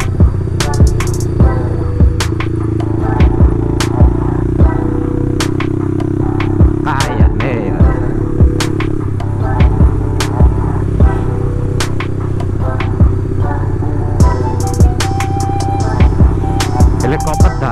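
Motorcycle with a long, loud aftermarket exhaust idles with a steady deep throbbing rumble close by, punctuated by sharp repeated pops and blips throughout.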